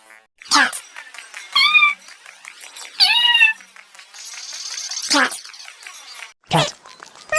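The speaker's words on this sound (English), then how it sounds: "cat," A cat meows twice in clear, rising-and-falling cries, close and fairly loud, amid a few sharp noisy bursts and a low background hiss.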